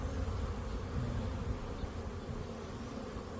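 A mass of bees hums continuously at a newly installed hive on a ranch, a dense, steady buzz filling the space with no talk over it.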